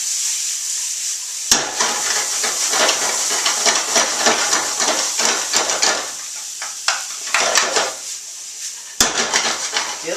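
Chopped onions, green onions and garlic hit hot olive oil with a sudden loud sizzle, then a pan scraped and stirred with a utensil, clattering over steady frying hiss that cuts out and resumes.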